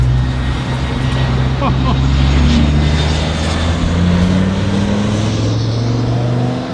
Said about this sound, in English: Look how crazy this airplane is flying in